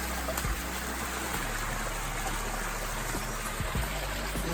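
River water flows and rushes steadily at Nonsuch Falls in Port Antonio, Jamaica, a constant broadband wash with small splashes and trickles, fairly close and alone with no talk.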